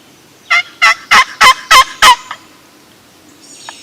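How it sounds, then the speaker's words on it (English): Old 1958 Lynch world champion turkey box call played by hand, six sharp, evenly spaced yelping clucks in quick succession, loud and close, then quiet. "Here's an old Lynch world champion turkey caller from"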